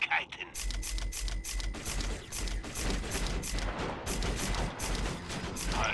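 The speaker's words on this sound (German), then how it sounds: "Die Luftunterstützung wird eh irgendwann anfangen auf uns zu schießen" Rapid, steady gunfire from air support in the game Borderlands 2, a dense stream of fast shots running continuously with voices talking over it.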